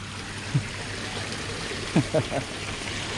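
A small waterfall at a Japanese-style cafe in Sisaket, Thailand gives a steady, close rush of falling water, with a few short bursts of voices over it.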